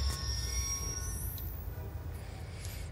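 Train wheels squeal on the rails in Call of Duty Black Ops 2, Mission 6, as a high, drawn-out metallic screech rises and bends over steady low rumble, continuous and fairly close with no talking.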